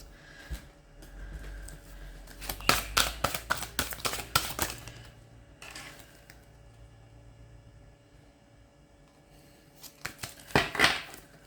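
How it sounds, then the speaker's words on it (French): Tarot cards being shuffled and drawn: a quick flurry of close, crisp riffling and flicking, then a brief snap. After a quiet gap, a second short burst of shuffling follows. "Donc, je vais en retirer quelques cartes."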